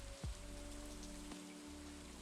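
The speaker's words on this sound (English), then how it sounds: "And it's raining." Rain falls in a video game, a steady soft hiss of drops on surfaces spread across the whole stretch, faint and continuous with a few low tones underneath.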